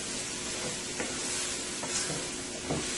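Onion and seasoning fry in a hot pan with a steady, dense sizzle and occasional faint stirring scrapes, close and continuous, no voices.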